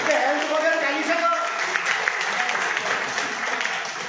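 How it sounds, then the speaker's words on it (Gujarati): An audience at a business plan presentation in a hotel applauds loudly. The clapping is sustained and dense, with a voice speaking over it at the start. "તો પછી તાળી જોરદાર હોવી જોઈએ કે નહીં હોવી જોઈએ?"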